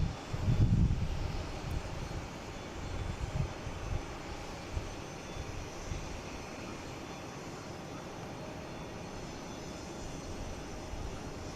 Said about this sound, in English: We have Delta here from Minneapolis, A321neo